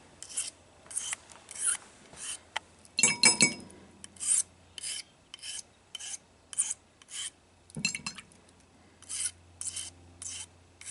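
Knife blade stroked across a sharpening stone in single-direction passes, giving a series of close, crisp rasping scrapes in an irregular rhythm with short pauses between strokes.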